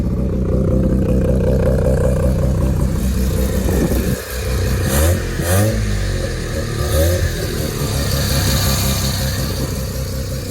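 A rotary-engine trike runs close by with a rough, uneven idle from an out-of-tune carburetor, a steady buzzing drone that dips briefly and then surges, with no voices over it.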